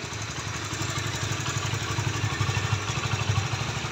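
A motorcycle engine idles close by, a steady low throbbing putter that holds an even rhythm throughout.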